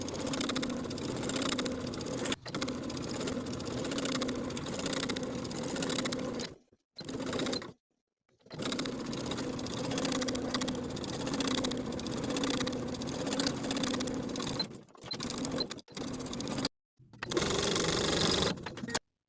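Sewing machine edge stitching along the bottom hem of a linen shirt placket, long close whirring runs with several brief stops and restarts.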